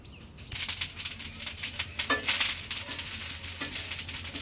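Rice frying and being stirred in a pan, with a soft crackling sizzle and intermittent scraping strokes at close range, no talking.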